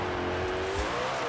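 Koenigsegg Jesko hypercar engine accelerating in the Forza Horizon 4 racing game, a steady loud drone of engine noise with no talk over it.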